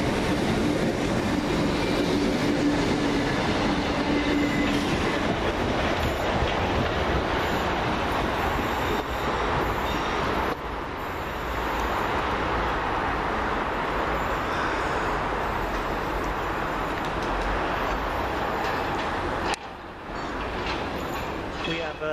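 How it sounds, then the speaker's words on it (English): A Southern Railway service from London Bridge to Beckenham Junction passes at West Norwood, a loud sustained roar of wheels and carriages rolling by close for about twenty seconds, fading slightly toward the end. "Starting on the left was the 1418 Southern Railway service from London Bridge to Beckenham Junction."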